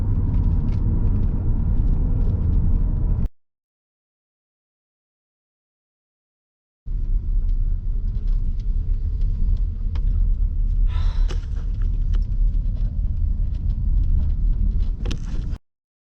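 A car in manual drive climbs a steep mountain road toward Thredbo in second and third gear, giving a steady, loud, low engine rumble that cuts out to silence for a few seconds and then resumes.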